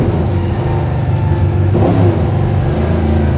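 Garage-built 355 ci Chevy Chevelle sleeper engine revving during a downshift, a loud, close, rumbling roar that swells briefly midway through a steady, throaty drone.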